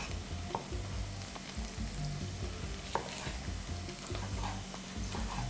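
Sweet red pepper sizzling in a hot frying pan, with a steady crackling hiss and occasional sharp pops and stirring scrapes, close and moderately loud with no voices.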